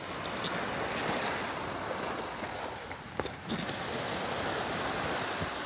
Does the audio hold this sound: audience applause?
no